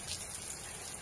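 Rain falls outside as a brief, steady wash of hiss, dense and even throughout, with no voices.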